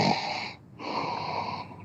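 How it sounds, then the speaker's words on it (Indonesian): Someone snores loudly and close by: two long, raspy, wheezing breaths with a brief quiet gap between them. "Ngeri kali ngoroknya."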